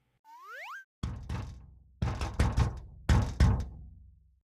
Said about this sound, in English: Start knocking, maybe someone will hear us.